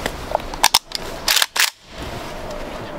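A ceremonial rifle salute at a memorial: sharp, loud volleys crack out in quick bursts, three separate discharges over a quiet outdoor background.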